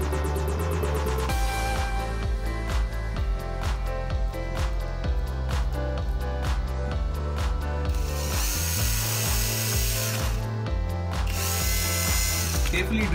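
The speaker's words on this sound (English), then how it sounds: "Carefully drill the wooden pieces." Loud power drill whirring through small wooden pieces for stitched hinges in repeated bursts, motor pitch rising and falling between short pauses, close up with no voices.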